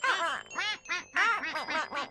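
Several small ducklings at a pond give rapid bursts of high, nasal quacks in quick succession, bright and close, with brief pauses between clusters.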